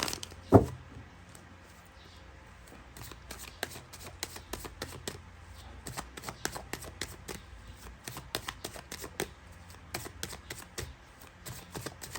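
A deck of tarot cards shuffled by hand, opening with one sharp snap and then a long run of quick, soft riffling clicks in uneven bursts, close and quiet with no talking.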